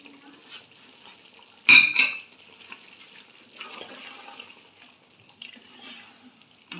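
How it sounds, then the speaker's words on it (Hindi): A cup of yogurt goes into a pan of chicken korma masala, setting off a sudden loud sizzling burst that settles into a low, steady frying hiss as it is stirred. "अब हम इसमें 1 प्याली दही ऐड करेंगे और भूनेंगे।"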